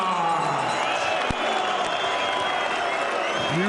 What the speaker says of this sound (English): Huge applause for the Nottingham fighter.